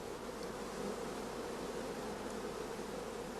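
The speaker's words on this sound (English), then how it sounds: "many young bees are occupied in nursing the young larvae" A close, unbroken drone of honeybees crowds brood frames where young bees nurse larvae, the buzzing steady and full for the whole short stretch without speech.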